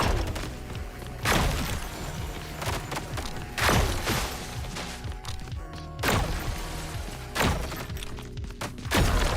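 Gunfire in ODDCORE, a roguelike first-person shooter, with sharp loud shots landing at slow, roughly regular intervals about every couple of seconds over a low rumbling game backdrop.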